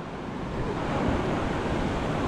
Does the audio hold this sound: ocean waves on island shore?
yes